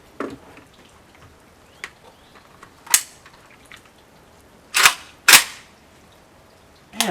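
A Century Arms WASR-10 rifle fires 7.62x39 rounds outdoors, giving about five loud, sharp reports spaced irregularly, with two close together near the middle, separated by quiet gaps and light ambient noise.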